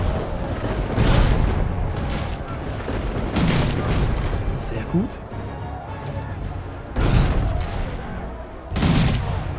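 Cannon blasts from the video game Risen 3 boom repeatedly in heavy bursts, several deep thuds with rumbling tails spread across the scene, mixed with game effects while someone talks over them.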